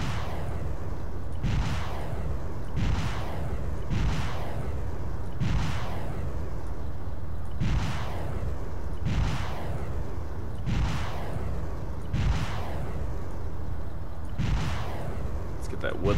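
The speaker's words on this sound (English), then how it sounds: "Anywhere where there's map markers, we're gonna launch a rocket." Rocket artillery barrage in a video game, launched at map-marked positions and a wood line: a steady series of heavy booms about every one to two seconds, each with a rumbling tail, continuous and loud throughout.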